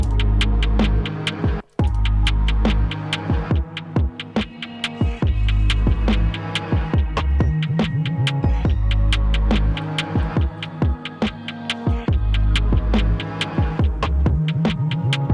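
A dark, spooky drill-bap beat loop pounds with heavy booming bass, crisp rapid hi-hat ticks and sliding tones over a murky atmospheric bed, dense and loud throughout with a brief dropout near the start and no talking.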